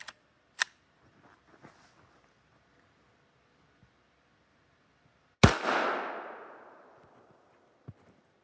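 One sharp, loud report from a Walther WMP pistol in .22 WMR fired through a chronograph, followed by a decaying outdoor echo, with small clicks and handling noises before and after.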